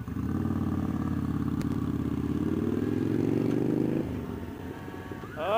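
A motorcycle engine runs loud and steady at close range, holding a rising drone before easing off near the end, with a brief clatter toward the close.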